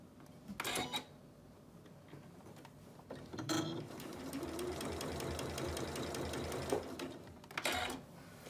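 Sewing machine stitching a fabric mask with a built-in filter holder along a curve, a steady mechanical whir with brief pauses and restarts, close and moderately loud.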